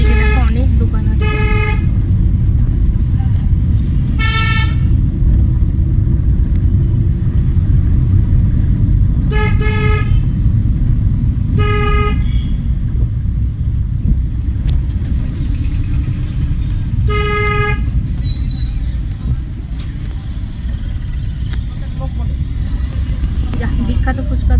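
Busy street traffic through Banipur market, a constant loud rumble of passing vehicles punctuated by repeated sharp car horn toots, some in quick double bursts, with voices talking throughout.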